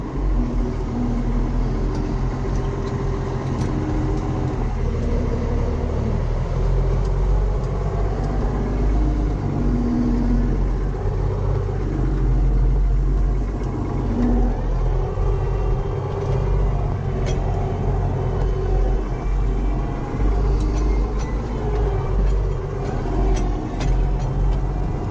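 A Ford TW tractor engine runs at a steady idle, a dense, continuous low rumble that stays constant and close throughout with no talking.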